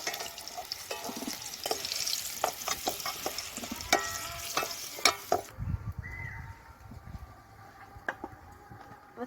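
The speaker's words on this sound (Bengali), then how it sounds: "আলুগুলো ভালো করে ভাজা হয়ে গেছে তুলে নেব" Potatoes frying in hot oil in a home kitchen while chicken is being cooked, giving a steady crackling sizzle with scraping stir strokes that thins out partway through to a quieter bubbling.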